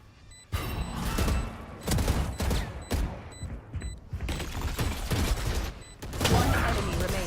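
Rapid, close gunfire in the tactical shooter Valorant during a collegiate esports playoff match, with repeated loud bursts and volleys of shots broken by short pauses.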